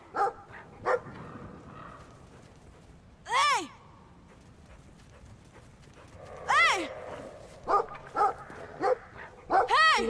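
A fierce dog barks outdoors in short bursts and yelps, some close and loud, others further off, with long quiet gaps and people talking between them.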